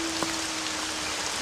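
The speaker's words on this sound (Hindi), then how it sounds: "बारिश बहुत तेज हो चुकी थी। बादल बहुत जोरों से गरज रहे थे।" Steady rain pours down in a stormy night scene, a continuous broadband wash with a faint tonal hum running through it and one brief knock near the start; no thunder stands out.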